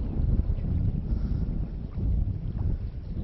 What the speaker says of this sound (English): If you can hear wind